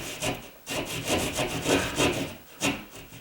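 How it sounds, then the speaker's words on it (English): Small drywall saw cutting through wood for a ceiling fan install, with fast, continuous rasping back-and-forth strokes, close and loud, in a steady rhythm with no talk. "I got my little drywall saw"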